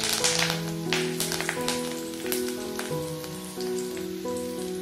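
A bunch of curry leaves goes into hot oil with green and dried chilies for garlic pepper fried rice, giving a close, crackling sizzle with scattered pops over steady background music.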